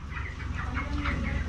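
Chickens at a chicken shop cluck in a steady, busy stream of repeated calls, fairly close and continuous, with no talking over them.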